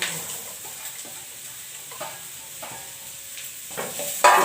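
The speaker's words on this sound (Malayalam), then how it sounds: "അതിന് ശേഷം നമ്മൾ അരിഞ്ഞ് വെച്ചിരിക്കുന്ന ഈ ബീട്രൂട്ട് എടുത്ത് ഇതിലേക്ക് ഇടുക" Chopped beetroot hits a hot pan for stir-frying, giving a soft sizzle with intermittent scraping and stirring clatters and a sharper clink near the end, no voices.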